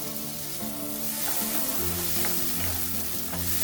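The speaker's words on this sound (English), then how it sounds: "I love the sound this sizzling tomatoes make." Tomatoes sizzle and crackle in olive oil in a hot pan, a loud steady frying hiss with faint spatters, close up and without speech.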